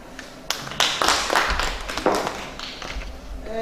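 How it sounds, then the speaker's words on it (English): A small audience in a lecture theatre claps after a presentation, a thin patter of scattered hand claps from a few people that tails off over several seconds. "That's a very small clap."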